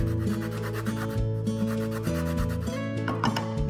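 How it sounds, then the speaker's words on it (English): A lemon is zested on a hand cheese grater, producing close, repeated scraping rasps in quick back-and-forth strokes, alone without speech. "So I'm just zesting that lemon."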